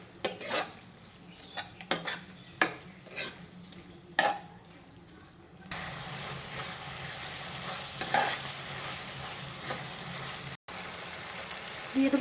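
Tomato sauce and soy sauce stirred into paneer Maggi in a pan, a spoon scraping and clinking against the metal in several sharp strokes, then a steady sizzle of frying takes over.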